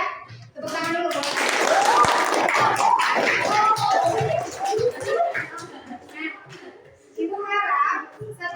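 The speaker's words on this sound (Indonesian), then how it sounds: "Tepuk tangan dulu." A class of schoolchildren claps hands in a lively, scattered burst that fades after a few seconds, with children's voices and a teacher speaking through and after it.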